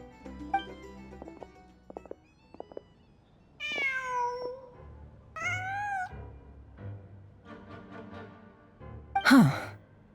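A video game cat meows several times in short, rising and falling calls, clear and close, over soft ambient game music, ending with a higher, sharper cry.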